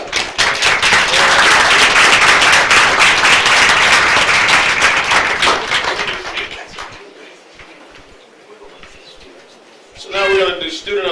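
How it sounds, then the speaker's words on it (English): A city commission audience in Palatka gives a loud, sustained round of applause that fades out after about six seconds, leaving scattered claps and room noise before a voice speaks over a microphone. "Round of applause for you guys."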